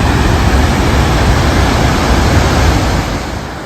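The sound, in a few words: Godafoss waterfall in Iceland, rushing water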